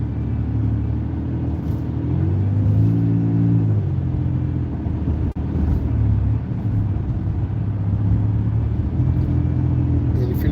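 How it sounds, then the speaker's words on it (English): A car engine hums and rumbles steadily while creeping through slow traffic, a continuous low drone with gentle swells as the throttle lifts and eases, close and loud from inside the cabin. "You can hear the motor."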